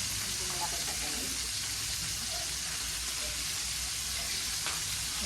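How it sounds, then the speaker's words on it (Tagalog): Fish frying in a pan, a steady broadband sizzle and crackle that runs throughout at close range with little variation. "ako nga po ay nagpiprito na"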